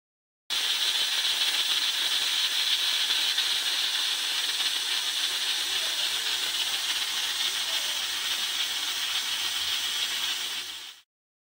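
A pressure cooker on the stove, cooking yakhni, lets out a loud, steady hiss of escaping steam that holds without a break for about ten seconds, then cuts off abruptly.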